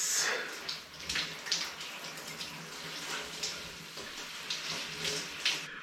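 Water streaming steadily while conditioner is rinsed out of curly hair, a close, continuous splashing hiss with small surges as the flow is moved around, no talking.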